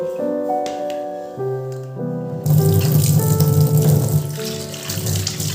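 Tap water running into a sink while tender coconut flesh is washed, starting with a few clinks and hums, then a loud steady splashing gush close by.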